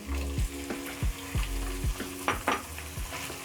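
Meat frying with browning garlic and ginger in a pot for beef and rice, loud sizzling broken by a regular series of scraping stirs, close by with no talking.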